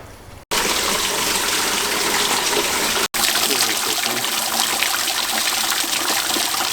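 Water gushes steadily through the radiator of a 1999 Jeep Cherokee XJ to flush out old coolant, a loud continuous rushing spray cut by two brief pauses.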